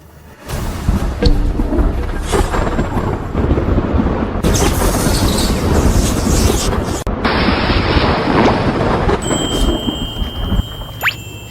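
A thunder sound effect in a Chinese costume drama: a loud, sustained rumbling crash that rolls on for about ten seconds before cutting off.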